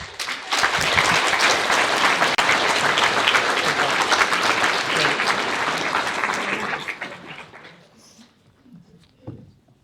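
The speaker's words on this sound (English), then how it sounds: "So, warm applause." An audience at a European Parliament event in Stavanger, Norway gives a sustained burst of dense applause that holds for several seconds. It then thins out and fades, leaving a few scattered claps and small noises.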